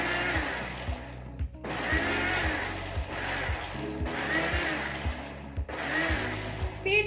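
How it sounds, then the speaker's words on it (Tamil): A kitchen blender grinding mayonnaise in pulse mode, with repeated short motor bursts of roughly a second each, separated by brief gaps, loud and close. "திரும்பவும் பல்ஸ் மோட்டில் தான் நான் அரைக்க போகிறேன்."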